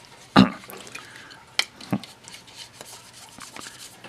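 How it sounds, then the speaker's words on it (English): A paintbrush is swished and tapped in water inside a coffee can: a loud knock, then a few lighter clinks and faint wet dabbing close up, with no one talking. "here is my coffee can, and inside is some water. And you place your brush in there"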